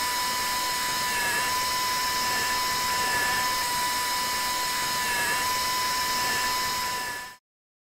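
A high-pitched surgical dental implant drill, washed with saline, whines steadily and continuously at close range, then cuts off abruptly at the end.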